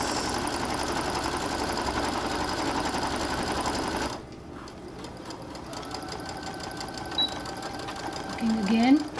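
A sewing machine locks a seam with a steady, close mechanical whir for about four seconds, then stops, leaving a quieter room with light handling noises and faint voices.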